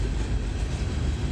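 A coal train rolls past on the rails at Littleton/Mineral Station, a loud close rumble with a steady low roar of cars on track and no voices.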